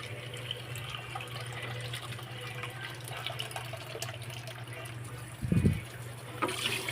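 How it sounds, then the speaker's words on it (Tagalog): Water pours steadily into a cooking pot as a broth base for Filipino sinigang soup, a continuous close-up splash with a brief heavier gush near the end. "naglagay po ako ng 3 mangkok na sabaw"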